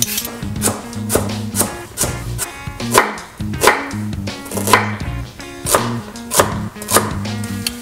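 Knife chopping carrots, onions and celery on a board for halibut chowder, a steady run of sharp close taps at an even pace over soft background music, no talking.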